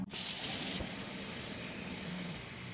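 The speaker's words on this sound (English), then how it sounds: "Basically fill in the whole intercooler with hot water." Hot water poured into a car intercooler on a 1.6 HDi engine, a steady hissing, splashing flow that starts abruptly and continues evenly and close up.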